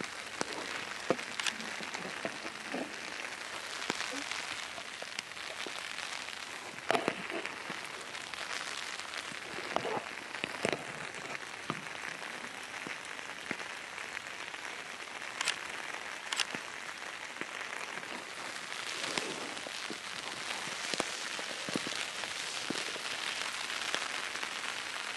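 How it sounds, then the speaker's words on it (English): Rain falls steadily outdoors during a wet photography outing, a constant soft hiss with dense, irregular patters and occasional louder drops striking nearby surfaces. "Today's so awesome, such a rainy day."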